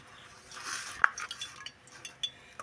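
A knife cutting a pressed block of besan and chhena paneer into pieces, giving soft, quiet taps and light clinks against a plate or board, scattered irregularly.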